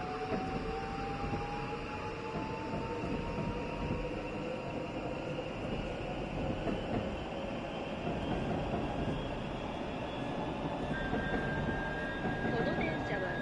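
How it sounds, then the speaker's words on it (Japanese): A Yamanote Line train runs in the Densha de GO! driving game, giving a continuous rolling rail rumble with rising and falling motor whine throughout, and speech heard at times. "この電車は山手線、"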